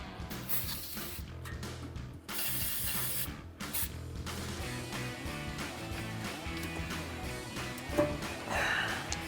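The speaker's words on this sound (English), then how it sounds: "we're going to spray down our last 2 rubber isolators" Aerosol lubricant hisses in long continuous bursts onto the rubber isolators of a Ram 1500 muffler, close by and steady with short pauses, plus a faint clank near the end.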